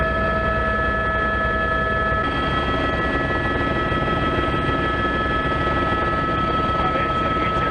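A helicopter flies over paragliding country in Asturias, Spain, its rotor and engine making a steady, loud, unbroken drone with a constant whine on top. No one speaks.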